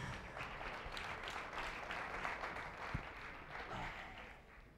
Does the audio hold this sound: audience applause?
yes